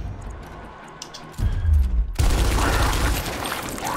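Video game gunfire arrives as a dense, loud burst of shots and crashing impacts after a quieter stretch of background noise, continuing as a heavy roar to the end.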